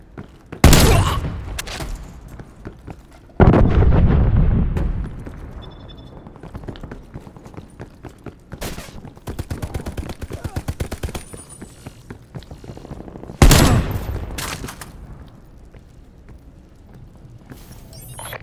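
Hand cannon fire in Call of Duty: Black Ops Cold War, with several heavy, sharp booming shots spaced seconds apart over ongoing game noise and effects.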